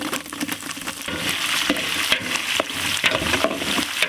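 Chana dal, urad dal and green chilies fry in hot oil in a pan for a festive chickpea usli, a close, busy crackling sizzle broken by quick scraping stirs.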